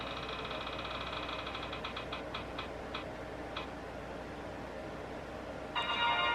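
Roulette wheel spinning in a phone savings-challenge game app, a rapid run of ticks that slows and spaces out until it stops, followed by a short bright chime, all faint and close.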